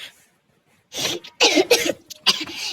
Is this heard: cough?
yes